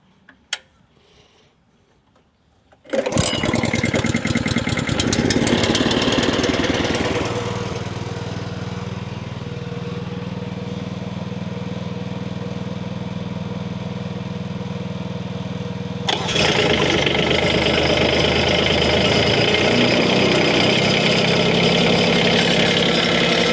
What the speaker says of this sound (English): The Kubota rattles at a low RPM, so I always like to let it run, warm up a little bit higher of an RPM